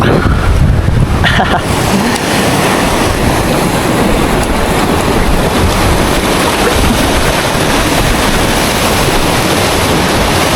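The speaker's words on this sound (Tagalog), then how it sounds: "Medyo malakas yung alon dito guys." Strong sea waves and surf roar continuously at a fishing spot after rain and wind, a loud, broad wash of noise heard up close, probably with gusts of wind mixed in.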